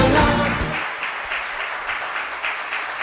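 A church congregation applauds during a Spanish-language service. A voice speaks briefly at the start, then scattered, lively clapping continues at moderate volume.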